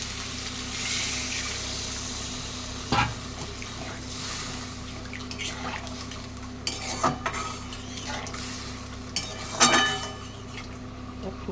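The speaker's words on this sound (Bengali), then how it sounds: "এবার আমি এর মধ্যে জল দিয়ে দেবো।" Water poured into spices frying in a pan for a Bengali fish curry, a steady low sizzle and bubbling with a few sharp clinks of a metal spoon stirring against the pot.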